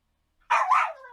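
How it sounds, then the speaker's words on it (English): A dog gives one short, sharp double bark up close, loud against otherwise silent surroundings. "I've got my dog here with me, and he's just barking up because I'm talking and I'm not paying attention to him."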